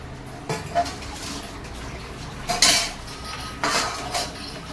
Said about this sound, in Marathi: माझे ना भांडे सगळे घासून झालेत